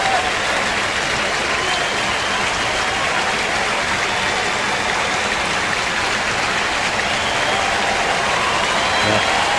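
A St. Louis baseball stadium crowd gives a sustained ovation for returning player Miguel Cabrera, with steady, dense applause and cheering filling the whole stretch at a loud, even level.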